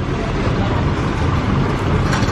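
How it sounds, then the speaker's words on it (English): Dense street traffic at a jam in downtown Angeles City, Philippines, near a market: a steady, loud wash of engines and road noise with no break, with indistinct voices mixed into the din. "Traffic jam."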